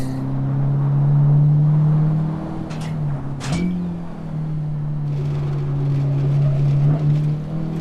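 A Honda Civic Type R engine accelerates in the Assetto Corsa racing game on the Nürburgring, giving a loud, steady droning hum that climbs slightly in pitch, with a brief sharp click partway through.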